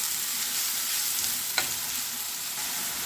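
One cup of lengthwise-sliced onion fries in hot oil with a steady, dense sizzle and a single brief clink near the middle; no voices.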